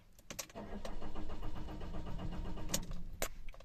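An Iveco Daily van, showing an AdBlue fault, has its engine cranked by the starter in one sustained, fairly close whirring run that never catches, bracketed by sharp clicks at either end.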